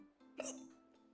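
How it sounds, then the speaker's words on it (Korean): A single sharp hiccup from a person during a video game session, brief and fairly close, standing alone over a steady background hum. "딸꾹질 싫어."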